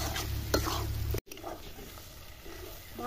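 Turmeric and spices sizzle in a pan for a jackfruit dish, with close scraping stirs over a steady frying hiss, broken by a brief cut of silence partway through.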